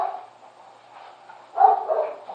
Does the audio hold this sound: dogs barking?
yes